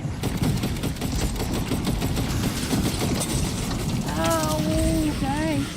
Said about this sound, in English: Standing right there while he's shooting at me.